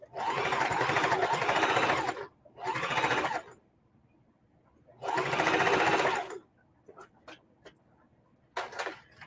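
A home sewing machine runs in three bursts of steady stitching through layered quilt fabric while sewing a mitered binding, with quiet gaps and a few soft clicks between runs.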